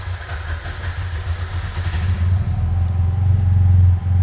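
A tuk-tuk engine with a carburetor fault idles unevenly, a low chugging drone that rises into a louder steady run toward the end.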